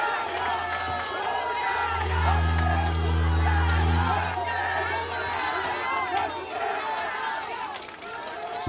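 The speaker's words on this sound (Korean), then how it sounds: "큰 박수와 구호로 환영 부탁드립니다." A crowd at a political campaign rally in Mokdong Kkaebi Market in Yangcheon, Seoul, gives a loud, sustained roar of cheering and chanting over a steady low hum from the sound system, with voices mixed throughout.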